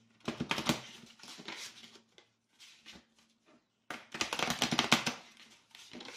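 Quick papery riffling bursts, two clusters separated by a short pause, close and crisp with soft taps in between.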